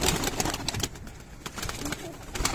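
Pigeons coo softly amid a busy, rustling background, with scattered bird calls and a few faint voices nearby.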